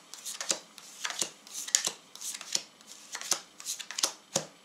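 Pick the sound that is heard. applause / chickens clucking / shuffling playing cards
shuffling playing cards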